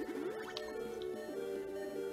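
Max Potion healing effect from the Pokemon Emerald video game: a short bubbly, rising chime-like jingle with sparkling tones over a soft, quiet backing of game music.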